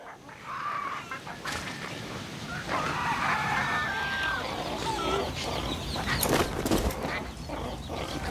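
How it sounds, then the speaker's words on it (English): Roosters crow and cluck in the distance in the video game Far Cry 6, faint calls over a steady outdoor ambience with no talk. "I hear roosters."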